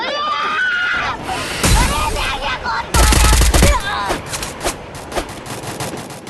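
Rapid automatic gunfire bursts in a video game while a player attacks an enemy, loud and close, mixed with shouting game audio and someone talking over it.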